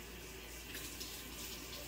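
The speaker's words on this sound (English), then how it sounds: "Wash my hands." Tap water runs steadily into a kitchen sink while hands are washed, a constant close rushing hiss with no talk over it.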